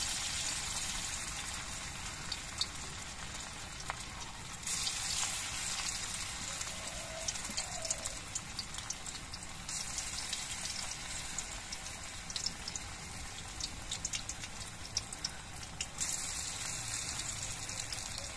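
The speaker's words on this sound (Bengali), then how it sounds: "এরকম চ্যাপটা করে করে পকোড়াগুলো ভেজে নিচ্ছি।" Flattened drumstick-flower pakoras fry in hot oil, giving a steady, dense hiss that runs unbroken and fairly loud for the whole stretch.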